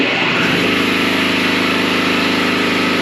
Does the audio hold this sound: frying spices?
no